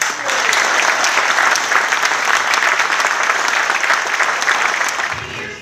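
Audience applause rings out in steady, dense clapping after a farewell thank-you for Hackmatack, holding loud and even for several seconds before tapering slightly at the end.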